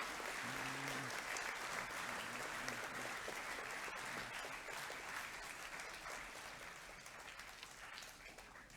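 Sustained round of applause at a Year 11 academic awards ceremony as award recipients leave the stage, dense steady clapping from a large audience that slowly tapers toward the end.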